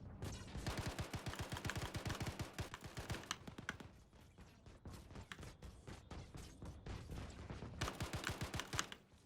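Gunfire in Star Citizen, a gun firing in fast repeated bursts. Dense volleys of sharp, loud shots are heard near, with brief gaps between the runs and no talk.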